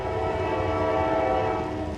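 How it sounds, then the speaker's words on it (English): A passing freight train near a station sounds its horn in a sustained, loud, steady blast over the rumble and clatter of rolling railcars, continuing without a break. "Are you on a freight train right now?"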